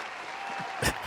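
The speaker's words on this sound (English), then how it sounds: "I think I'm gonna have way too much fun with the soundboard, because I only have applause and David Lee Roth" A canned applause effect from a podcast soundboard plays as a thin, steady wash of clapping, with one louder burst near the end.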